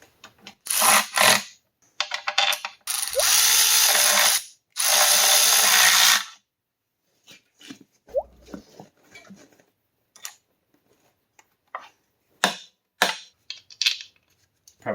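Ratchet wrench tightening bolts during assembly of a 4.3 Vortec V6 engine, heard as close, loud bursts of rapid clicking separated by pauses, with scattered light taps and clinks of tools between them.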